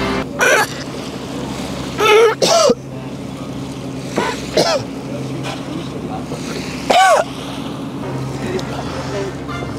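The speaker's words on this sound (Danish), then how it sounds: "men det er fandme en lækker båd" A boat moves across open water with steady engine and wind noise under wave wash, while several short bursts of voices break in.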